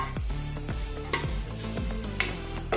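Onions fry in a pan for a soybean, potato and moong dal pulao, a constant sizzle broken by repeated metal scrapes and a few sharp clinks of the spoon against the pan, close and without speech.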